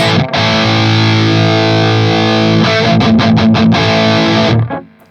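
An electric guitar played through a Hughes & Kettner Spirit Nano amp with a distorted, mid-heavy tone: a long sustained chord, then a quick run of choppy strummed hits before it cuts off and fades, loud and close.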